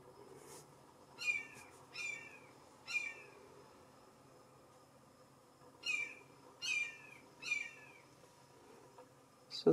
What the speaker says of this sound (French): C'est un oiseau ou un écureuil, je sais pas c'est quoi. Ça crie assez fort.